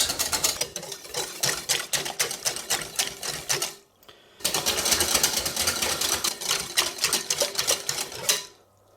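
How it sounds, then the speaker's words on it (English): Eggs whisked into pancake batter in a bowl, a fast steady run of clicking whisk strokes for about four seconds, a brief pause, then another continuous burst of rapid whisking before it stops. "we're going to continue whisking all of the egg"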